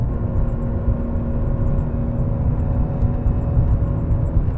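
A Subaru WRX engine running with no turbo boost, a steady low droning rumble with a faint whine, continuous and fairly loud from close by, no voices.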